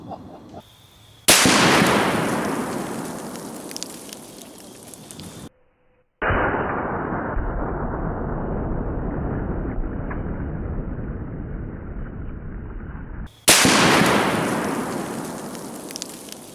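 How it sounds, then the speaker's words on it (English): A Serbu RN50 firing a .50 BMG armor-piercing incendiary tracer round into a 380-pound Atlas stone outdoors, with sharp, very loud blasts, each followed by a long, fading rumble and a sustained roar between them. "Let's hit this 380-pound Atlas stone with a 50 BMG."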